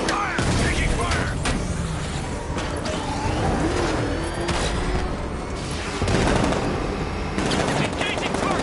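Sustained automatic gunfire from a Batman video game firefight, dense bursts of rapid shots layered with engine and mechanical noise, loud and continuous throughout with shouted combat callouts mixed in.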